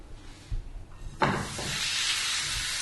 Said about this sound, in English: That's starting to sizzle away.